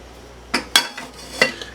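Clinks and knocks of an egg being cracked and added to chocolate cookie dough in a mixing bowl, a few sharp close taps against the bowl rim with small clatters, no talking.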